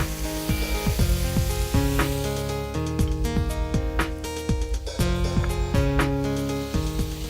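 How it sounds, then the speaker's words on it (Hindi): Puck tomato cream sauce goes into a hot pan and sizzles steadily, with loud frying crackle over rhythmic background music. "इस स्टेज पर मैं इसके अंदर डालूंगी पुक टमेटो सॉस विद क्रीम"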